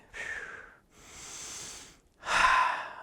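Three deep, breathy respirations, close and clear, come one after another with short pauses, the last one strongest, as a person breathes in while touching a point during an energy kinesiology session.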